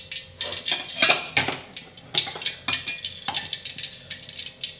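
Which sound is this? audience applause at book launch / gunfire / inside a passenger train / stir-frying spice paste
stir-frying spice paste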